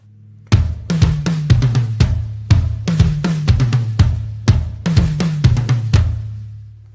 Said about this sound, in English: that tom intro matches the song a little bit more